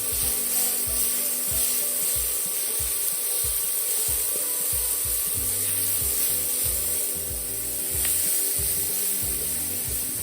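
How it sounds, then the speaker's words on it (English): Ground beef and softened tomatoes sizzle in a pan, a constant hiss under steady rhythmic scraping and knocking of a stirring utensil, close and fairly loud, with no voices. "Let's just keep on stirring this until mawala na yung pink color ng ating meat."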